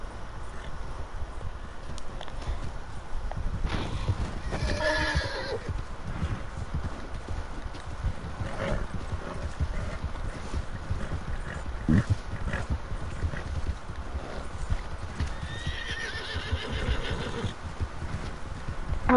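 Horse hooves clip-clop steadily throughout a Red Dead Redemption 2 ride, with a couple of neighs or whinnies breaking through near the middle and end over dense game ambience, no talking.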